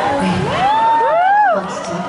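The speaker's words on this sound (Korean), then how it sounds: "그래서 같이 이렇게 음악적으로 호흡을 교류하는 그런 의미에서 박수를 이렇게 모실게요" A large outdoor concert crowd at the Korean Music Festival at the Hollywood Bowl in Los Angeles cheers steadily, with one voice whooping in rising and falling swoops above the broad roar for about two seconds.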